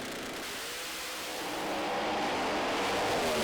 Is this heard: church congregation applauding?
no